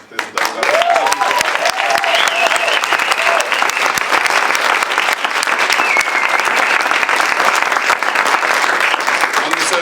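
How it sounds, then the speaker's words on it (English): A festival awards audience gives a loud, sustained round of applause for the tech team, steady dense clapping throughout with a few voices and whoops rising over it. "a round of applause for our tech team"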